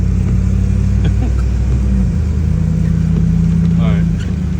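A car on a rural backroad pulls away, a steady low engine rumble with a mild rise in revs, close and continuous for a few seconds before easing slightly at the end.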